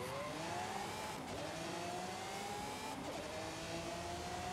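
A car engine in the racing game Forza Horizon 5 drones steadily with rising and falling pitch as it shifts through gears, a constant close-up motor whine with no talk over it.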